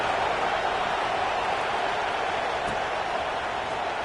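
A football stadium crowd at kickoff of a college game, a steady broad roar of cheering and noise filling the space without letup, loud and continuous throughout.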